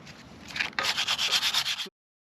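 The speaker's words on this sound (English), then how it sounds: "120 grit sandpaper, some wood, get some tunes on, and let's start sanding." Wood being hand-sanded with 120 grit sandpaper outdoors on a fall day, heard as a steady rhythmic rasp of about eight close, loud back-and-forth strokes that stop abruptly.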